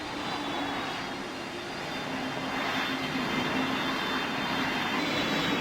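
An airplane engine in the PTFS flight game spools up, producing a steady, even jet-like whine and rushing drone that holds at moderate level throughout, with no talking.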